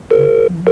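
A single electronic telephone ring on a call placed to a radio studio in 1989, one steady tone lasting about a third of a second, then a pause before the next ring begins.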